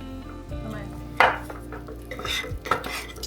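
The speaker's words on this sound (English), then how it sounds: "Now we're gonna give it a mix." Sourdough with chocolate and cherry being mixed with room-temperature water in a bowl, a few clinks of a spoon against the bowl and soft scraping stirs, with sharper knocks near the start and end.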